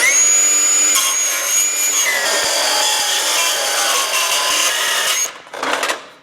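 An abrasive cutoff wheel slices through aluminum for a work truck bumper, a loud continuous grinding whine that holds steady for about five seconds, then cuts out before a brief second burst.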